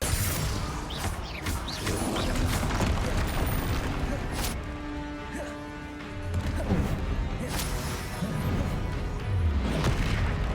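Spells cast in the video game Hogwarts Legacy make a dense, loud run of booms, crashes and whooshing blasts in quick succession during combat, with voices mixed in.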